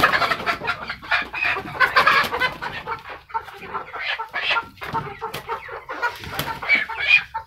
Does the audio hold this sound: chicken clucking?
yes